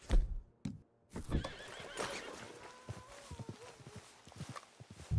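A horse whinnies loudly in Red Dead Redemption 2 with a rising, wavering neigh, amid clopping hooves and a few soft footsteps nearby.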